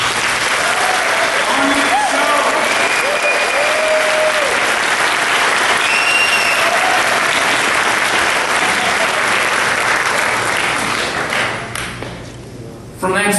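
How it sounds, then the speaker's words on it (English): Loud, sustained applause from a large awards-ceremony audience fills the space, with a few faint ringing tones early on before the clapping tapers off. "let's give a gigantic round of applause to the people who are pushing this forward"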